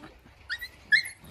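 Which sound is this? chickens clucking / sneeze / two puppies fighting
two puppies fighting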